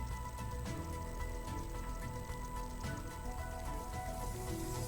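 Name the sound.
heavy rain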